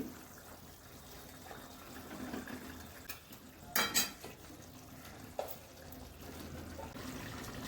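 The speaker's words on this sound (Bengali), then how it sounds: "ঝোল ফুটছে এবার আমি মাছগুলো দিয়ে দিচ্ছি" Rohu fish pieces dropped into a bubbling fish curry with cauliflower in a pot, giving a gentle simmering hiss with a few soft splashes and clinks of a utensil near the middle.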